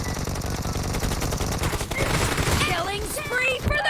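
Rapid bursts of gunfire from a shooting video game, including shotgun blasts, rattle in quick succession while someone talks over the action.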